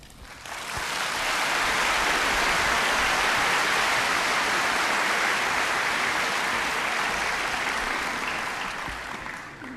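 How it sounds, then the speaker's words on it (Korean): A large church congregation applauds steadily, a dense wash of clapping that swells in, holds loud for several seconds, and tapers slightly at the end. "오늘 목사님 이동희 목사님 나오실 때 주님 앞에 영광을 돌리고 우리 목사님께 격려의 박수를 보내주시기를 바랍니다."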